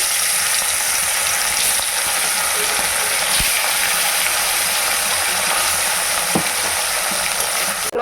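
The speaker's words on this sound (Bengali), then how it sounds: "এরপর আমি মাছগুলো ভেজে নিচ্ছি" Fish pieces fry in hot oil for a village-style tamarind fish curry, a loud, dense, continuous sizzle filling the clip with occasional faint knocks of a spatula.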